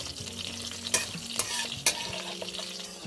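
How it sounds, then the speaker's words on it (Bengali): Cumin seeds, white oil and chopped green chilli fry lightly in a pan, giving a steady close sizzle with a few sharp stirring scrapes; no one speaks. "এবার এগুলোকে হালকা ভেজে নেব।"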